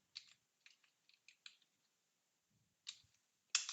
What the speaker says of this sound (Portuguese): Quando você for digitar a senha, não vai aparecer asterisco